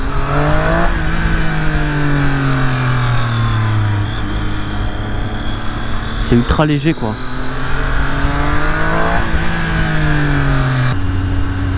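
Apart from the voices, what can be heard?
sport motorcycle engine revving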